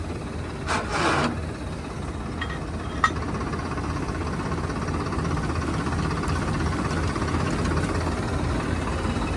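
A low, steady tractor engine rumble runs throughout while pulling out a stuck trolley, with a couple of brief scraping knocks near the start.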